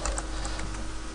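Quick clicking keystrokes on a computer keyboard, light and fairly close, with soft taps spread through a short stretch over a steady background hum; no one speaks.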